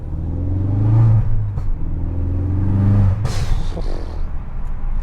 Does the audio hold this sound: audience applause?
no